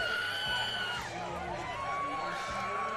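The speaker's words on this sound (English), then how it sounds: "Loudest cheers we've heard yet this evening." An arena crowd cheers loudly as a fighter walks to the ring at a live combat-sports event, a steady roar of voices with whoops and shouts running through the whole stretch.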